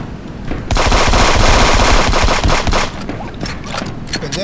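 Loud automatic weapon fire in a first-person shooter video game, long rapid bursts of close shots that ease into scattered single cracks, with no talking over them.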